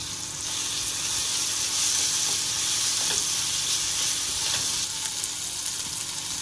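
Tomato and ginger garlic paste sizzle steadily in a hot pan, a continuous frying hiss broken by soft scraping strokes of a spoon stirring the mixture, close and clear with no talk.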